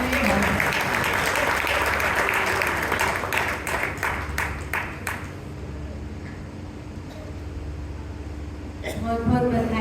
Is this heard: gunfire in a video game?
no